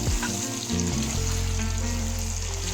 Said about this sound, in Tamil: இப்போ இஞ்சும் புளியும் சேர்த்து அரைச்சி வச்ச விழுது எண்ணெயில் நல்லா